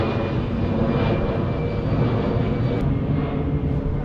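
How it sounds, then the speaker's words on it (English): An airplane passes overhead with a steady, loud roaring drone that holds without a break for the whole stretch. "There's an airplane up there being really noisy."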